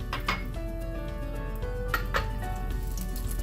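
Curry leaves hit hot coconut oil in a pan for a Kerala beef chukka, giving a steady close sizzle and frying crackle with a few sharp pops and light clinks of utensils throughout.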